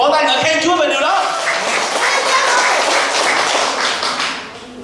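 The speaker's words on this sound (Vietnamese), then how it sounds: "Hãy vỗ tay ngợi khen Chúa về điều đó." A church congregation claps in praise, starting with a few voices and scattered claps that swell into dense, lively applause before tapering off, with some chuckling and talk mixed in.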